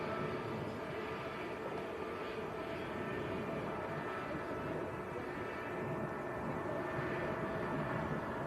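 An EgyptAir Airbus A321neo arriving from Cairo at Manchester Airport, a steady loud broadband jet roar holding throughout with no pauses.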